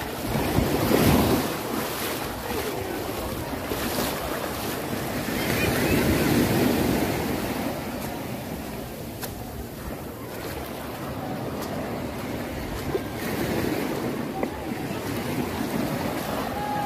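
Ocean waves wash onto the beach at Playa Las Gatas in Zihuatanejo, Mexico, a steady surf roar with gentle swells and gusts of wind buffeting the microphone.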